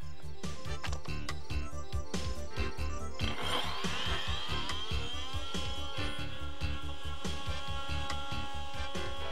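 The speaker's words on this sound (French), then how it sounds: "Découper la nervure de renfort." A tool cuts through a plastic reinforcement rib, giving a steady, dense run of rapid rasping strokes with a brighter, harsher grinding edge after a few seconds, close and continuous with no talk.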